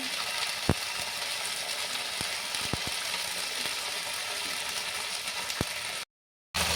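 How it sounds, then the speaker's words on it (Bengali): Spice masala sautéing in a pan for a chana paneer curry, a steady close broadband sizzle with scattered pops and clicks of stirring, cutting out briefly near the end. "এবার মশলাটাকে ভালো করে কষিয়ে নেব।"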